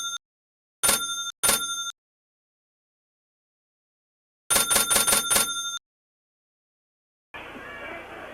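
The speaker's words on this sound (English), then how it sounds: "Now the bell." A ringside boxing bell at a Muhammad Ali vs. Bob Foster fight clangs in quick bright strikes: two, then a rapid run of about six, ending in a burst of crowd noise.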